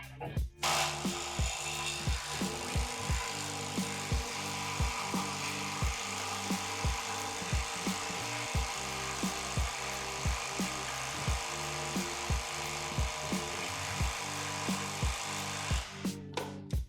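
A GISAM 1800Nm cordless impact wrench set to maximum hammers at a stubborn, fully torqued fastener. A fast, continuous rattling whir is punctuated by rapid regular impact blows for about fifteen seconds before it stops.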